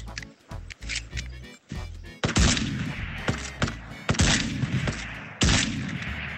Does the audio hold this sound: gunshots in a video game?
yes